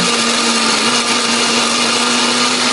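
An electric blender grinds spice paste for Balinese sate lilit, a loud, continuous high-speed whir with a steady motor whine and no pauses, close by.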